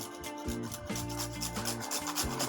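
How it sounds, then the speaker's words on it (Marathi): Nutmeg is rubbed against a small kitchen grater in quick, rhythmic rasping strokes, close and fairly quiet, for a sweet milk pudding. "थोडंसं जायफल किसून घालते"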